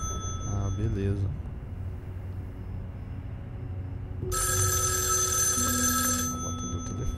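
A telephone bell rings loudly in a horror video game, a bright sustained trill that starts partway through over low eerie ambience, with a voice briefly speaking.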